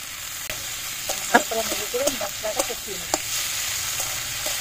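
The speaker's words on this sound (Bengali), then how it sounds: "রসুন বাটা, জিরে লঙ্কা ধনে বাটা দিয়ে নেড়ে নেব।" Garlic paste, cumin, chilli and coriander paste fry with tomato in a pan for a Bengali dish, sizzling softly while a spoon stirs and scrapes in a few quick, uneven strokes.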